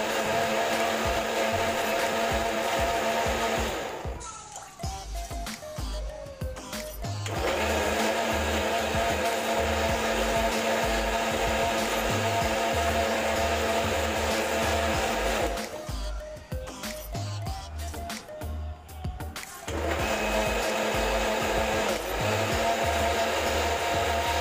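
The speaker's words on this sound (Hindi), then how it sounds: "अब कुछ नहीं करना है, इसको पीसना है" A mixer grinder grinds raw grape chutney, its motor roaring in a loud, steady whine, cutting out twice for a few seconds before starting up again, with no talk over it.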